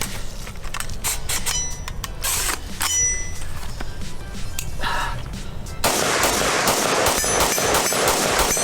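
An ATI Omni Hybrid 5.56 AR-15 is slammed down to clear a stuck case, giving several sharp, heavy impacts with metallic clanks, followed by a louder stretch of rustling handling noise.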